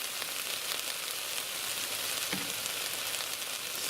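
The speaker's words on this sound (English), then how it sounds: "you want to stir fry your vegetables until they're tender crisp" Vegetables and sausage stir frying in a pan, giving a steady, even sizzle and crackle throughout, close and moderately loud, with a brief stirring clatter partway through and no talking.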